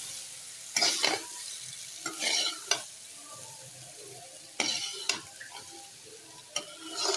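Boiled spaghetti is stirred into frying rice in a pan for Singaporean-style rice, with irregular bursts of scraping and clattering over a soft sizzle, close and alone with no talk.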